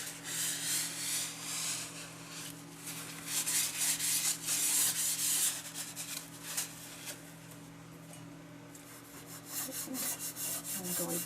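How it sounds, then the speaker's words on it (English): Steady rubbing and scrubbing on a junk journal page as excess paint or medium is worked off, close and continuous with rhythmic strokes, louder bursts midway, over a low steady hum. "let's see about rubbing some of that away"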